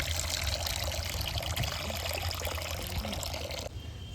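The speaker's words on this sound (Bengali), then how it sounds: "এখানে একটা কড়ার মধ্যে অল্প করে জল দিয়ে দেব।" Water poured a little at a time into a wok (kadai), a steady close splashing and trickling stream that runs continuously for about four seconds before tapering off at the end.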